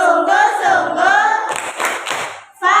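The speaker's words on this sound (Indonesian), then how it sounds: "Coba kita tepuk fokus dulu." A classroom of students performs a rhythmic focus clap, a group clapping pattern heard close and loud. Voices chant along with it, and the claps come in short, patterned bursts.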